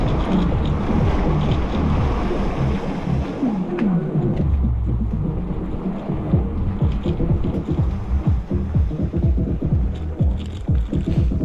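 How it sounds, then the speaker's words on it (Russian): A cold wind blows in off the Black Sea near Yalta in February, roaring steadily into the microphone with rumbling buffets and the wash of the sea beneath. No one speaks. "Ох, какой ветер задул. Ах, холоднючий с моря."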